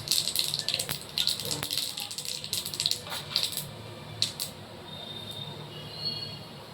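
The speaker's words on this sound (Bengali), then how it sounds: "এখন আমি একটু রাঁধুনি ফোড়ন দিয়ে দিচ্ছি।" Radhuni seeds crackle and spit in hot oil as tempering for a pumpkin curry, bursting in quick, busy pops that thin out to a quieter sizzle with a few scattered snaps.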